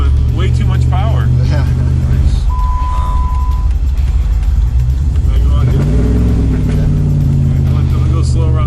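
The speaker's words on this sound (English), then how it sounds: "Feels like a regular Jeep with way too much power." A 6x6 Hellcat Jeep Wrangler pickup's engine rumbles loudly and builds as it accelerates, a deep steady roar with a rising surge toward the end, heard from inside the vehicle.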